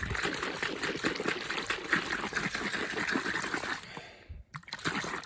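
A bottle of White Diamond metal polish is shaken hard, its liquid contents sloshing and splashing in a steady rapid rhythm close by, stopping briefly near the end before a little more movement.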